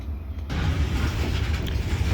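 A CSX freight train begins to move in the Brunswick rail yard, a deep broadband rumble that swells in abruptly after a brief quiet moment and holds steady.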